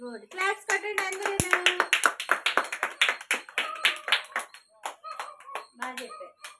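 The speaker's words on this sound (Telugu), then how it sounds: "క్లాప్స్ కొట్టండి అందరూ." Young children at an anganwadi clapping together, a burst of fast, uneven claps close by, mixed with children's voices and talking.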